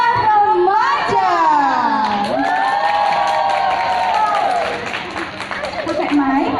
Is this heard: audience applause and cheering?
yes